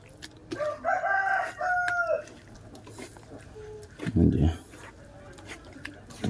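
Hill-breed chickens cluck and a rooster calls briefly among farmyard noises, with a person talking nearby in between.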